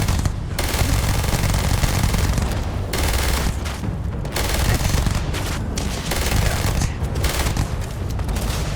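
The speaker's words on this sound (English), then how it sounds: "Sarah's shooting me." Sustained machine gun fire in the Starfield video game rattles continuously and densely for several seconds, a loud, unbroken barrage with booming impacts layered throughout.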